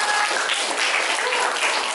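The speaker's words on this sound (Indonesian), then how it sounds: "Tepuk tangan dulu buat Nazla." A class applauds a student named Nazla after her answer in a lesson. The short, even burst of clapping comes from many hands nearby.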